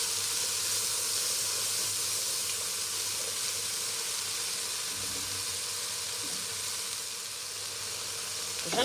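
Shrimp sizzling in a hot pan for a shrimp bisque, giving a steady, even frying hiss that carries on without pause at a moderate level, with no voices.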